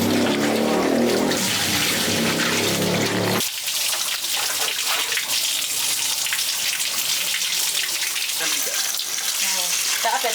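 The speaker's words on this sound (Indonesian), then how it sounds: "Pencucian dan pembilasan menggunakan air mengalir" Dyed cloth is rinsed under running water. The water pours and splashes steadily and loudly, and a louder burst of sound is heard at the start.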